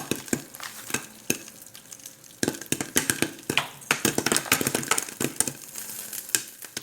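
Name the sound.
popcorn kernels popping in a pan over a flame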